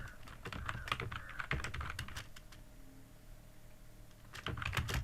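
Typing a sentence on a computer keyboard, brisk bursts of clicking keystrokes close to the microphone, pausing briefly in the middle before resuming, with no talk.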